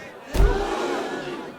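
A noisy holiday crowd rushes in with a thump and a surge of overlapping voices and commotion, a dense, loud murmur that holds steady after the impact.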